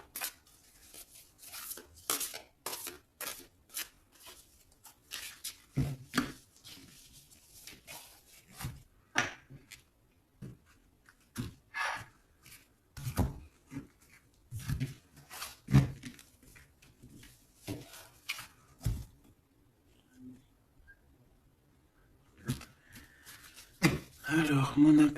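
Tarot cards being cut and shuffled by hand, giving a scattered run of short, crisp slaps and riffles at close range, separated by quiet gaps, with faint speech in the background.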